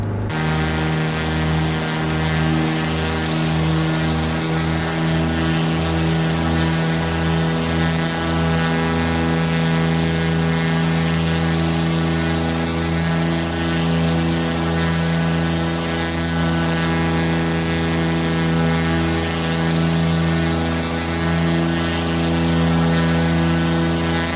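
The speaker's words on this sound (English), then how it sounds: "Very unmistakable sound of the Skymaster" A Cessna Skymaster's propeller engine in Microsoft Flight Simulator drones steadily and loudly, its throaty rasp building and holding at high revs without a break.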